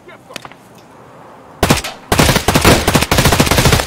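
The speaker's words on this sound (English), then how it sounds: "They were shooting at a scav to the right." Gunfire in the video game Escape From Tarkov: a few faint distant shots, then loud close automatic bursts of rapid shots filling the second half.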